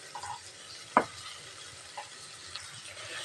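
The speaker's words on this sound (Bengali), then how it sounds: "আমি এখানে অনেকগুলো রসুন নিয়েছি, এই যে রসুনগুলো দিয়ে দেব।" Garlic hits a pan used for frying puffed rice with one sharp clatter. A faint, quiet sizzle and a few light scraping ticks follow.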